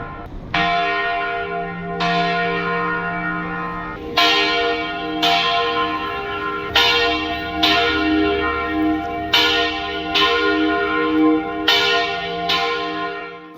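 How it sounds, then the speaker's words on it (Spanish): Large church bells ring loudly and repeatedly, each strike leaving a long resonant hum that overlaps the next in a slow, steady peal. "ese sonido de las campanas sonando"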